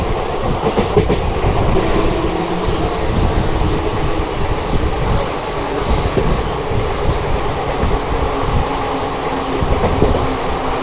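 The 14123/24 Intercity Express running from Kanpur to Lucknow, heard from inside: a loud, steady roar of rolling wheels and rattling carriages with faint clickety-clack, continuous throughout.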